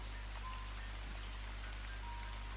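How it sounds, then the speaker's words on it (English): Steady heavy rain at night in Spain during the winter rainy season, a constant dense hiss of drops with no voices. "it's raining heavily"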